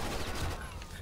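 Bursts of gunfire from the video game Rainbow Six Vegas 2, a dense, steady rattle of shots filling the whole brief moment with no clear pauses.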